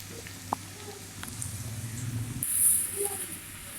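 Ingredients for mash dal are frying in a pan until golden brown. A faint, steady sizzle runs throughout, with a couple of soft knocks early on and a brighter hiss rising near the end.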